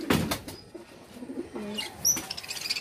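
Pigeons kept in a loft coo softly and nearby in a few low throaty calls, with light chirps and a brief flutter of wings, without talk.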